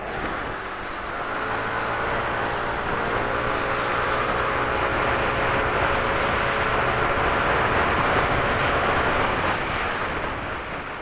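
A truck engine runs steadily close by for the whole stretch, a broad loud rumble with a faint droning tone beneath it and no break in the noise.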